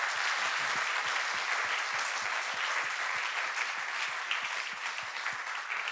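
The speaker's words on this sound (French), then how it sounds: "Donc, vous pouvez les applaudir." Steady audience applause at an awards ceremony for the Nouvelle Économie prizes in Gland, a dense, even wash of clapping from a large crowd that lasts throughout, with no speech over it.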